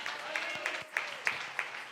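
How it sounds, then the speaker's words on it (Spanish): A church congregation claps for the Lord after a sermon, steady applause with a few sharper accents, moderately loud and close. "Dele un aplauso al Señor."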